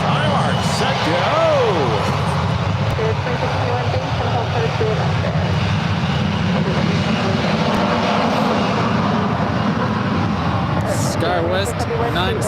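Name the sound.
airliner taking off from runway at SFO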